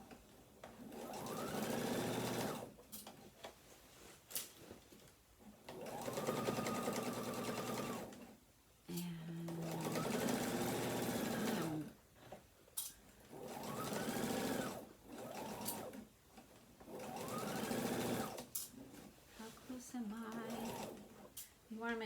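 A sewing machine top stitching the right-side-out seams of a tote bag runs in repeated bursts of rapid, close mechanical stitching separated by short pauses, with someone talking over and between the runs.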